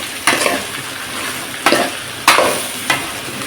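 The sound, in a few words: frying ingredients in a pan for dried fish curry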